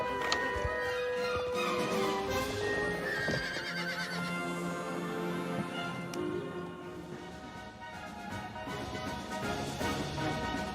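Horses neigh and whinny in the Star Stable video game, with clip-clop of hooves over a dense backdrop of game music and ambience, the calls steady throughout.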